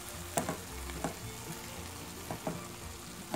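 Crushed tomato cooks with ground meat in a pan, a soft steady sizzle broken by several light stirring clicks and scrapes, close and quiet.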